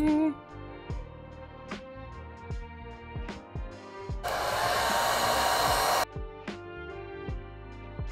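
A hair dryer blowing hot air switches on for about two seconds with a loud steady whoosh, surrounded by quieter tapping and handling sounds in a makeup session with soft music.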